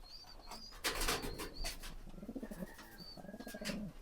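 Pigeons coo in repeated low, throaty bursts in a loft where a female has gone into a paired male's nest box, with chirps and a flutter of wings mixed in, fairly close and with no one talking.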